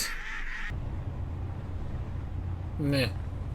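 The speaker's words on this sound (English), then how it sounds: "Ducks." Ducks give a brief quack over a steady low rumble, with a short burst of another sound at the start.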